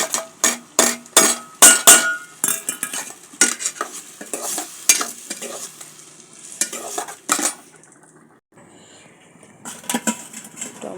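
Potatoes and masoor dal frying in oil on a stove, stirred with a metal spoon that scrapes and clinks against the pan in quick repeated strokes over a soft sizzle, close and fairly quiet.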